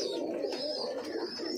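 Pigeons coo inside a pigeon farm room, soft repeated throaty calls overlapping one another at close range, with faint chirps above.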